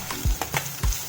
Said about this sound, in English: fennel seeds, chopped onions. Let this fry well.